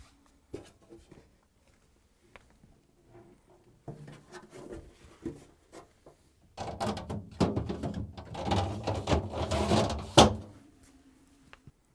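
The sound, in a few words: fridge crisper drawer sliding onto rails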